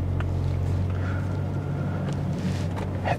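An Audi A5 Cabriolet engine accelerates, a steady low droning rumble that holds for several seconds, close and fairly loud, with wind noise over it.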